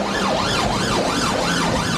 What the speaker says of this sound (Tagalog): Iba yung siren nila eh.